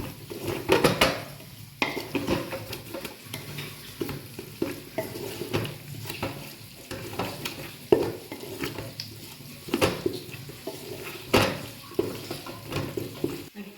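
A spoon scrapes and clinks in a pot as spices are mixed into mutton, with repeated stirring strokes and faint sizzling underneath, fairly close and steady, no voices.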